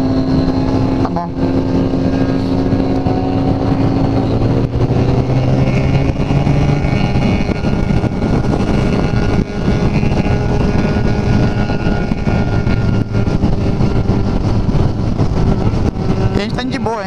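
Yamaha FZ6 and Triumph 675 motorcycles riding on a road toward Campos do Jordão, engines droning steadily and loud throughout with occasional surges of acceleration, under wind noise and some speech.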